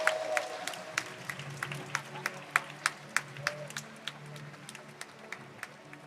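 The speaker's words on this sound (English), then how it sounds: "Greeted with loud applause, Yiheng Wang in second place." Scattered audience clapping at a Rubik's Cube world championship podium ceremony, a steady patter of applause with occasional sharper claps, heard from within the hall under a faint crowd murmur.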